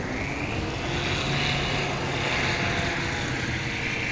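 A propeller-driven short takeoff and landing airplane at Swamp STOL practice in Jennings, Louisiana drones steadily at close range, its engine a continuous broadband roar that swells slightly mid-run without breaks.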